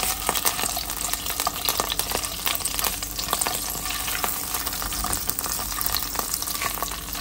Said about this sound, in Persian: خوب مخلوطش میکنم.